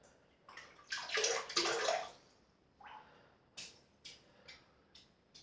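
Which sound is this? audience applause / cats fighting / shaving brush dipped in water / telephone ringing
shaving brush dipped in water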